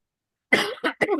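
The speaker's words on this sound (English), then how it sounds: "the more I talk, the more I cough" A short, sharp cough followed by two quicker coughs, close and loud, with silence before.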